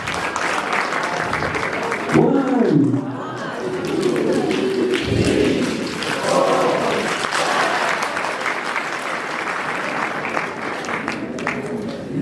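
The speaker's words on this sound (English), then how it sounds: "Please give yourself a big round of applause." Sustained audience applause rolls on throughout, dense and even, with a voice briefly calling out over the clapping.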